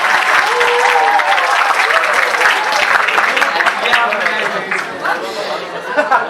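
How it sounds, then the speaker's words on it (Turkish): An audience applauds to welcome students onto the stage at a literature workshop final ceremony, steady dense clapping that fills the room throughout with a murmur of crowd chatter, easing slightly toward the end. "öğrencimiz Fatma Yükseli ve Velisini kuvvetli alkışlarla sahneye davet edeceğiz"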